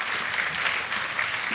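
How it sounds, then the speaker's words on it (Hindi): Studio audience on the Indian quiz show KBC clapping steadily, a dense, even wash of many hands with no speech over it. "तालियां बजती रहे उनके लिए।"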